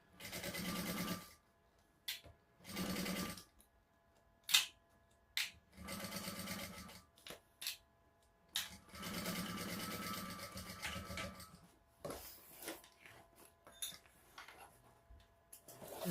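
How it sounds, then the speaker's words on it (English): A sewing machine stitching a bag seam, running in short bursts of rapid mechanical whirring separated by pauses, with light clicks and handling sounds between stitches, close and fairly quiet. "we're just going to stitch across there, 1/8 of an inch seam allowance"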